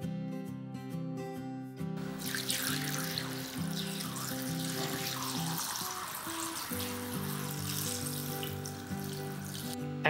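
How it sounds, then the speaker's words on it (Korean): Cold water is poured into a bowl to soak 50 g of glass noodles in a kitchen. A steady rushing pour plays under background music for most of the clip. "당면 50g은 찬물에 불려주세요."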